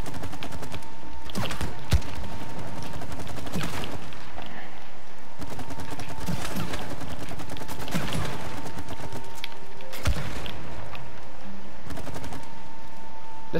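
Several sharp, sporadic gunshots in the video game It Takes Two ring out against a steady hum and mechanical creaks, spaced irregularly with quiet stretches between.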